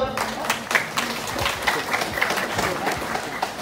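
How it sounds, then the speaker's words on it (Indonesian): Scattered clapping from a gathered congregation at a thanksgiving mass for a religious brother's perpetual vows in Malaka, with crisp individual claps over a murmur of crowd voices. "tepuk tangan dulu"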